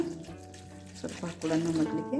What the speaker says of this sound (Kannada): ಈಗ ನೀರು ಹಾಕ್ಕೊಡೋಣ